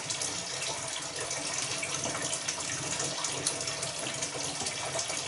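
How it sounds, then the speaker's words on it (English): Hot water runs steadily from a tap while brewing a pilsner lager kit, a continuous close splashing gush with no pauses. "Maybe we'll add a bit more hot water to here."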